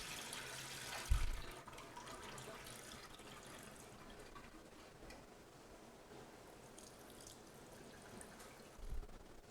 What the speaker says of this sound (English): So as you fill it, agitate the water, agitate the rice.